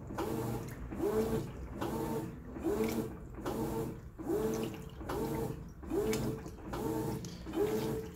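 A Brastemp 14 kg washing machine agitates its load, a steady back-and-forth churn of water swishing in regular strokes about once a second, close and continuous with no voices.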